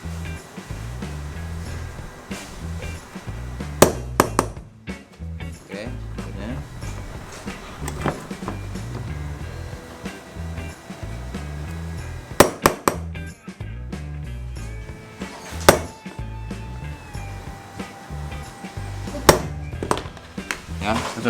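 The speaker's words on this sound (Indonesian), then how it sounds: "Kita penitik pakai palu aluminium ya, ngeringan aja." A center punch is struck with an aluminium hammer to mark a Shimano Saragosa SW fishing reel body, giving a few sharp metallic taps spaced seconds apart under ongoing talk.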